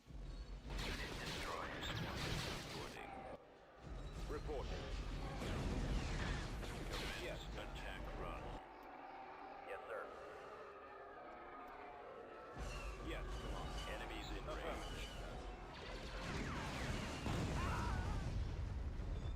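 Booming explosions from a bombing run in the Star Wars strategy game Empire at War, a dense, rumbling barrage lasting throughout, briefly thinning near the middle, mixed with game sounds and players talking.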